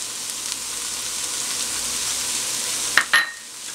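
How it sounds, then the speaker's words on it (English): Onions, celery and jalapeños sauté in olive oil, a steady broad sizzle filling the pan, interrupted near the end by two quick stirring scrapes as the vegetables are tossed. "continue sauteing this for an extra couple minutes"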